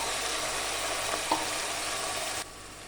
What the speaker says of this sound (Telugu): ఇప్పుడు చికెన్ వేస్తున్నానండి.